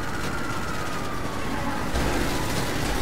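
A police car siren wails in GTA 5 Online, loud and steady for about three seconds over dense game noise, with no talking.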